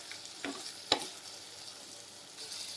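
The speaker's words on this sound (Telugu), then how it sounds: "మిల్ మేకరు ఇలా ఒక 5 మినిట్స్ ఫ్రై చేసుకోవాలండి." Meal maker soya chunks fry in a pan, giving a soft steady sizzle with a couple of sharp scraping stirs near the start. The sound is quiet and close, with no talking.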